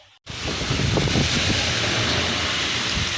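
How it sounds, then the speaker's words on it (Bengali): A heavy thunderstorm with steady, loud rain and rumbling thunder, starting abruptly after a brief silence and continuing as a dense, constant roar with low rumbles underneath. "বাবা প্রচুর পরিমাণে তুফান হইতেছে"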